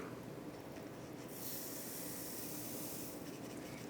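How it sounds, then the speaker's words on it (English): A soft, steady hiss of gunpowder pouring into a paper cartridge, rising in brightness for a couple of seconds before tapering off, with no talking. "pour the powder into the first cartridge paper"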